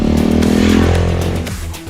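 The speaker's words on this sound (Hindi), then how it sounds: "Now I started liking this exhaust notes." A Bajaj Dominar 250 motorcycle engine roars loudly nearby, its deep exhaust note rising then easing off as the revs drop.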